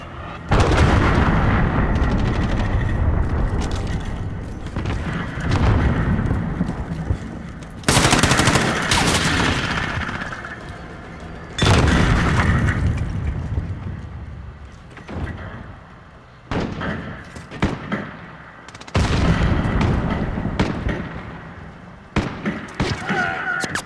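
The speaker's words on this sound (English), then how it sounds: "Enemy cruise missile incoming." Heavy explosions from a cruise missile strike in the Call of Duty: Modern Warfare video game, several loud blasts in bursts with rumbling gunfire between them and quieter gaps.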